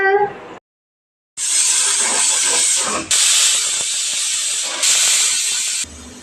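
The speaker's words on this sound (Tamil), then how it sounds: "மூணு விசில் மட்டும் அடிச்சா போதும் சோளம் ரெடி ஆயிடும்" A kitchen pressure cooker boiling corn lets off a loud, close steam whistle: sustained hissing bursts separated by brief gaps, with no voices.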